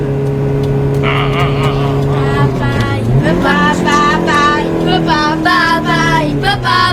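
A car overtakes on the road in a minivan advert. A steady engine drone is joined by a rising, sweeping engine note as the car passes, with tonal whining sounds and a voice talking over it.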